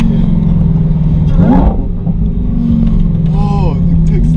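A 900-horsepower supercharged Lamborghini accelerates hard, its engine a loud, steady roar with a rising pitch sweep partway through, and voices briefly present.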